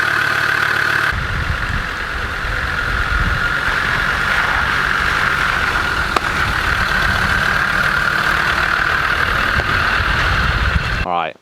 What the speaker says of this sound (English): I'm actually very stoked with that exhaust. It's not too loud, it's just a bit more grunt